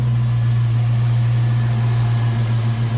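LT1 V8 idling in a 1937 Ford Cabriolet street rod, a loud, close, steady low hum with an even, smooth beat and no other sounds over it.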